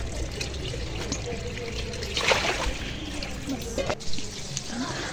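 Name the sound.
washing cut potatoes in water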